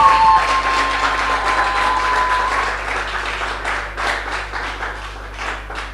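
Audience applause at a gospel music show, welcoming twin brothers who perform; steady dense clapping from a crowd, fairly loud and continuous throughout.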